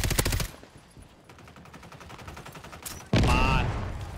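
Rapid automatic gunfire from Call of Duty Warzone, with fast bursts at the start, a thinner rattle of shots in the middle and a loud close volley near the end.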